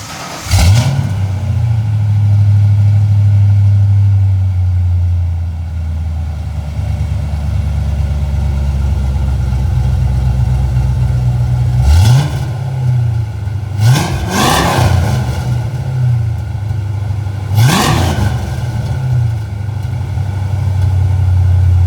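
A 1994 Mustang GT 5.0 V8 with Flowmaster 10 mufflers, exhausting straight out the back with no dumps, idles loudly in a shop, then blips through three sharp revs before settling back to a rumbling idle.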